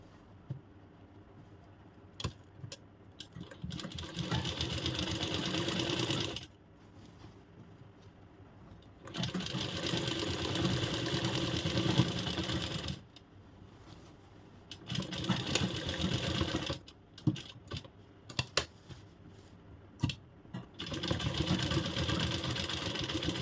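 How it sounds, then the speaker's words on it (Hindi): A sewing machine stitches a seam on a Banarasi straight kurti in several loud, sustained runs of rapid whirring, each several seconds long, separated by short quiet pauses. "सेम इसी तरह हम इस तरफ भी सिलाई लगा लेंगे"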